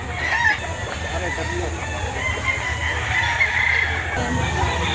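Roosters crow and hens cluck loudly and close by at a chicken market in Lipa City, Batangas, with a busy crowd murmur beneath.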